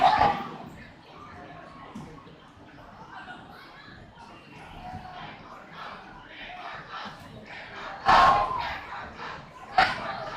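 A high school football crowd at Sarge Alberts Stadium, Central Valley hosting Blackhawk, murmurs and shouts steadily, with louder cheering surges near the end.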